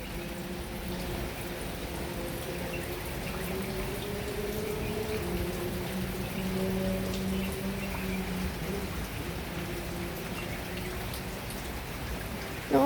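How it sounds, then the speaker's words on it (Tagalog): Light rain at dawn after a stormy night, falling steadily as a soft, even patter throughout, faint and continuous with no voices. "nung bandang madaling araw na mahina na ang ulan, ganito na yung ulan, oh."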